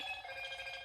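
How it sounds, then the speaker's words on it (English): Short electronic phone message alert chiming during a relaxed farming game session, a bright steady tone lasting under a second, heard alone without talk. "Oh, God, I hate when I get messages on my phone."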